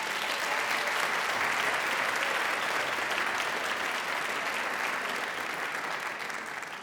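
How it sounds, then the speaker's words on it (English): A college graduation ceremony crowd claps in a continuous, even roar of applause that holds steady throughout and eases off only slightly at the close. "Can we have a round of applause?"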